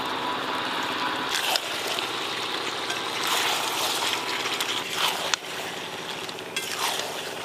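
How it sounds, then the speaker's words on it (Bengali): Water pours into a pot of braised chicken curry with fried potatoes, a continuous trickling stream with a few splashy bursts and clinks close by, no voices. "এবার অল্প জল দিয়ে দেবো"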